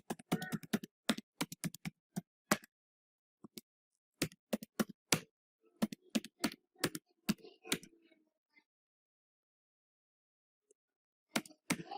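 Keys tapped on a computer keyboard while entering PAN and Aadhaar numbers, quick bursts of close, crisp clicks in uneven runs with pauses between, then a short final flurry; no talk.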